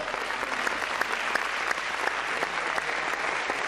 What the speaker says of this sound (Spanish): Deje su Biblia y démosle un fuerte aplauso de alabanza al Señor